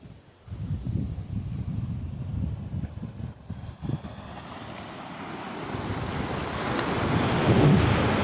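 Sea waves break at Puri beach in a steady, rushing surf with heavy wind buffeting the microphone, and the roar builds louder toward the end with no talking.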